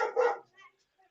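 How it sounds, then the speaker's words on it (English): A single sharp bark from a service dog lying on the floor close by, followed by a couple of faint, short trailing sounds and then quiet. "She's literally laying on the floor and barking at Annie or whatever she's barking at."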